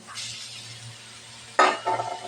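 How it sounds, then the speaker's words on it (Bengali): Beef tripe drops into spice paste fried down until the oil separates, then gets stirred with a sudden loud sizzle and clinks of a utensil against the pot after a quieter stretch of low frying hiss. "এখন আমি এটার সাথে অ্যাড করবো ভুড়ি"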